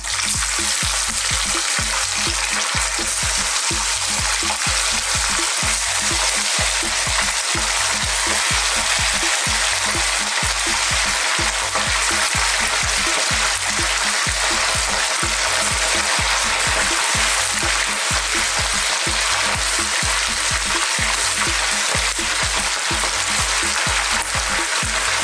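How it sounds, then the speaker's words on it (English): Mackerel pieces, heads included, fry in very hot oil with a loud, dense, continuous sizzle and crackle that runs unbroken throughout, with no talking. "we're going to drop this in very hot oil and just fry it up"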